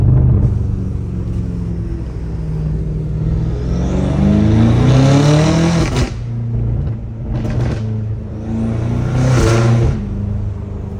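A 650hp BMW M5 Competition launches hard, its engine note sweeping upward through rising revs with gear-change dips, loud and close inside the car, then settling back and surging again.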